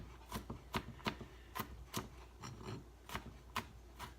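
A knife rough-chops vegetables for black beans and rice, giving a series of sharp, irregular chops on a cutting board, close and clear, with no talking.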